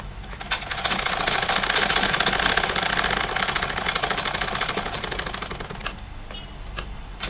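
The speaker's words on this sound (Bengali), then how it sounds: "একটি কাপড়ের উপর আরেকটি কাপড় রেখে আমি সেলাই করে দেব" An electric sewing machine stitches layered cloth for a small Laddu Gopal dress with a fast, close, even rattle. The rattle swells, runs steadily for several seconds, then slows to a few scattered clicks.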